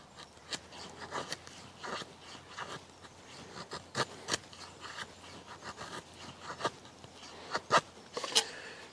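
A knife scrapes and shaves damp wood that was lying on the ground, cutting thick kindling sticks for an outdoor wood cooking fire; close, irregular rasping strokes with sharp cuts scattered throughout.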